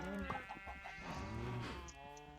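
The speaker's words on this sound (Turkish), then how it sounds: "Koyunlar koyunlar kırmızı koyunlar." Several Minecraft sheep bleat in quick, overlapping calls, faint and somewhat electronic-sounding, layered over a steady background hum.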